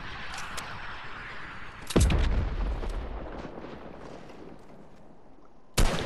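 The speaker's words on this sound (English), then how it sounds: "I'm gonna send another rocket" A rocket explosion in a shooter video game lands as a sudden loud boom with a deep low rumble that slowly fades, followed later by a second sharp burst near the end.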